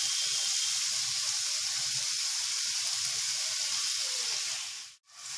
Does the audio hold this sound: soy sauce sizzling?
yes